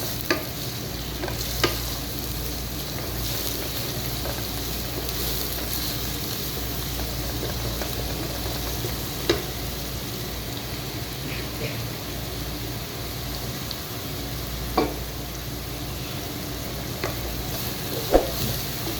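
Onions frying in oil in a pan for palak gosht, a steady low sizzle running throughout with occasional soft clicks of stirring, no talking.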